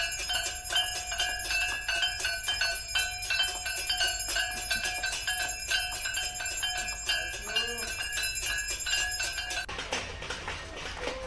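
Bells and metal plates are rung by families to salute frontline workers during a public curfew, a dense steady ringing and clinking that goes on for about ten seconds before giving way to a noisier, softer wash of sound.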